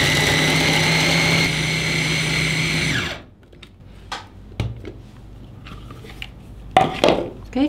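Food chopper whirring loudly and steadily as it blends chicken meat with garlic and shallots, then cutting off abruptly, followed by clattering, scraping and handling noises with some speech.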